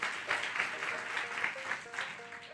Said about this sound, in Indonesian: kalau mau tepuk tangannya yang paling meriah buat Yesus